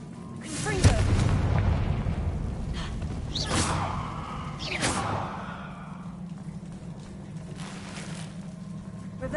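Confringo explosion spell from a Harry Potter video game: a whooshing cast followed by booming blasts and rushing debris, fairly distant and moderate, with a low sustained hum underneath.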